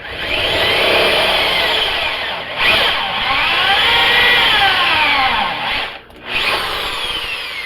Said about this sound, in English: got a step bit in my drill